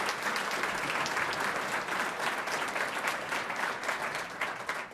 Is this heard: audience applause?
yes